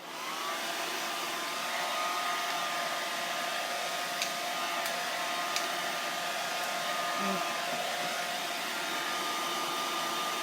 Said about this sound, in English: And then use the blow dryer on it really quick.